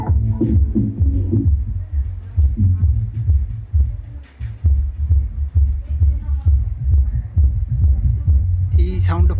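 Deep bass from a loudspeaker driven through an active crossover 234XS with a 250-watt amplifier: loud, throbbing low-end pulses in a steady rhythm, with someone talking over them.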